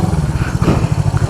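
A 1974 Honda CB360 twin-cylinder motorcycle engine running on both cylinders after points repair, a loud, close, steady throbbing idle with even mechanical clatter and no voices.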